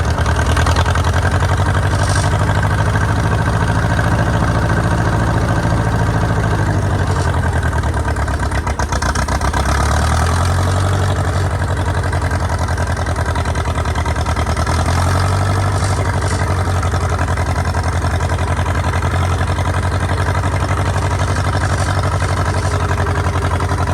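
A tractor skidder engine runs loud and close for the whole stretch, a steady low rumble whose pitch swells and dips several times as the throttle changes, with no voices over it.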